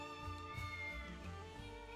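A kitty meows in the video game Triangle Strategy, a soft cat call over a sustained musical backdrop.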